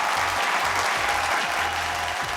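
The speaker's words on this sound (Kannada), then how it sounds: "ಬರ್ಲಿ ಜರ ಚಪ್ಪಾಳೆ." Studio audience applause at a televised mothers' reality show, continuous clapping throughout, with faint voice-like sounds beneath it.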